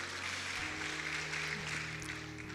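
A congregation at GKRI Air Hidup Ambon church applauds steadily through a worship service, sustained clapping alongside held musical tones from the band.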